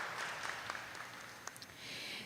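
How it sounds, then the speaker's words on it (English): A school audience at a Grade 3 academic bowl applauds a former classmate with a soft, steady patter of clapping that carries through the whole moment, fairly distant and without voices. "Round of applause for her."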